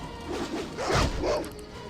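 Wild dogs in the Baldur's Gate game giving a short burst of barking and yipping, mid-distance, layered over game ambience and lasting about a second.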